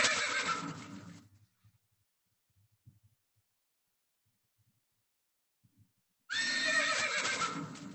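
A horse neighing in a short, bright whinny, then a long near-silent gap with only faint ticks, then a second loud whinny of the same kind.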